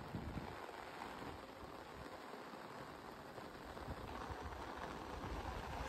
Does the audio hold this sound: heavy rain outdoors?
yes